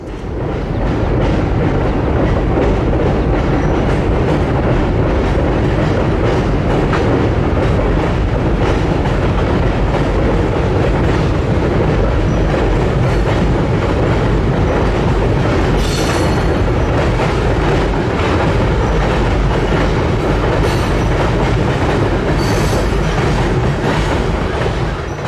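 A trio of classic locomotives rolling past on the Shenandoah Valley Railroad: loud, close, continuous rumble with rhythmic clickety-clack of wheels over rail joints and faint wheel squeal, sustained for the whole stretch.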